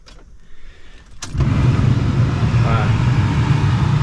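The blower motor of a 1997 Jeep Wrangler switches on after a click and runs on high with a steady, loud whooshing hum filling the cabin.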